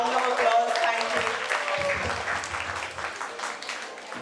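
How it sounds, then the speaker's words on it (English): Applause from the audience at a book launch by actress Shraddha Kapoor for an eight-year-old author's book, clapping that fades gradually while voices and tonal sound mix in over it. "Everyone, please welcome her with a round of applause."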